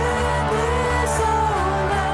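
A band's first song, with dense steady sustained instrumental layers, playing at moderate level with no voices over it.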